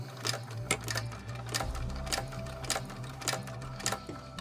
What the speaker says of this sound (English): we're gonna go ahead and sew this around at 1/8 of an inch, just a basting stitch